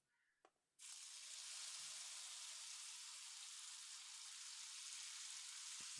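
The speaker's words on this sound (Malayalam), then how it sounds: "ബാക്കിയുള്ളതും കൂടി നമുക്ക് ഇതേപോലെ പൊരിച്ചെടുക്കാം." Chicken pieces frying in hot oil give a loud, steady hiss and crackle that starts abruptly and continues without a break, with no voices.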